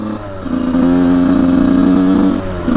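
A two-stroke 85cc motorcycle engine is held at high revs for a couple of seconds, close and loud, dipping briefly near the start and dropping off again at the end.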